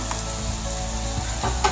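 Sliced onion frying in hot oil in a pan, a steady close sizzle running the whole time with a few light stirring scrapes.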